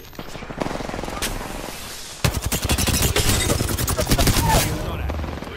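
Bursts of automatic weapon fire in the Apex Legends video game, dense rapid rattling volleys that start sparse, then turn continuous and loud after a short lull, with some in-game voice chatter mixed underneath.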